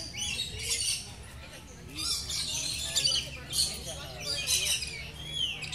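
A bird being hand-fed lets out repeated shrill squawks and chirps in close bursts, fairly loud and steady across the stretch, with no talking.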